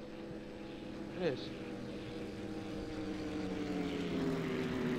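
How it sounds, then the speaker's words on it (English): A World War II Spitfire propeller plane in the Arma 2 game drones steadily through the scene, its engine hum continuous and moderately loud beneath players talking over voice chat. "That's a Spitfire to the left of it."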